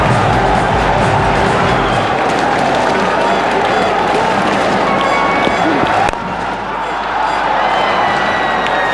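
A cricket stadium crowd at the 2011 World Cup opener, India vs Bangladesh, roars and applauds a Tamim Iqbal shot: a loud, dense, continuous wall of cheering that eases slightly toward the end.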